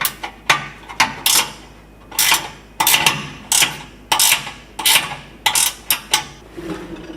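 A 13 mm bolt is loosened on the spare tire mount of a Jeep Gladiator, with a series of sharp metallic clicks and clanks from a ratchet wrench, about a dozen bursts at an uneven pace, close up with no talking.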